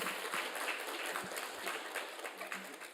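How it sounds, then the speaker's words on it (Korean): Faint, steady applause from a church congregation during a Sunday worship service, an even wash of many hands clapping with a few louder claps standing out. "다시 한번 큰 박수로"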